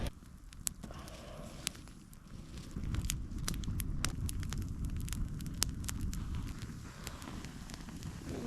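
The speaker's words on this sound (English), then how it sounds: "So I just threw some pine straw on the coals because I didn't have firewood yet. So it'd be a quick fire" Pine straw burning quickly on hot campfire coals at a solo campsite, with steady low crackling and roar and scattered sharp pops and snaps throughout, close and fairly loud, no talking.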